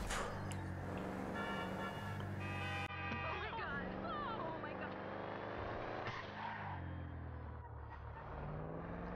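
Car engine in Grand Theft Auto V (Michael's vehicles) droning steadily under game music and a talking voice, with a brief horn-like tone and a shift in the mix partway through.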